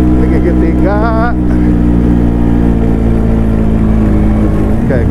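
Vespa PTT Challenger scooter engine pulling uphill in gear, a loud, steady droning growl up close throughout, with someone talking over it.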